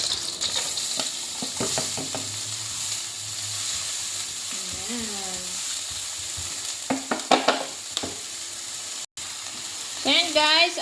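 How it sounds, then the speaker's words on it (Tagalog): Onion is sautéed in a pan, giving a steady sizzle with stirring clatter and scrapes; a person talks intermittently over it and background music plays. "nigigisa na natin ang ating onion"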